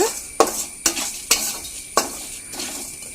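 Spices such as garam masala and poppy seeds fry in a pan for Mangalore-style mutton gravy. Sharp, regular spatula strokes scrape across the pan about twice a second over a soft sizzle.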